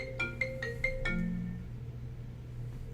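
An incoming phone call rings with a ringtone of five quick, bright beeps followed by a fading tone. The ringing is fairly close and clear, with no talking over it.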